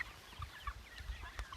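Pastured chickens cluck softly around grain feeder trays, giving several short, fairly faint clucks and calls in an irregular rhythm over a low outdoor rumble.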